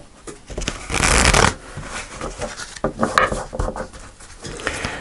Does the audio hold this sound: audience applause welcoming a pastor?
no